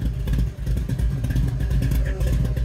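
A mini-tubbed 1963 Ford Galaxie 500 with a 460 V8, tunnel ram and dual quads, idling through side exhaust, a loud, lumpy, rapid-pulsing rumble up close with slight clatter.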